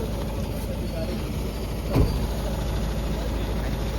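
A parked vehicle's engine runs at a steady low idle, close by and even throughout, with a single brief thump partway through.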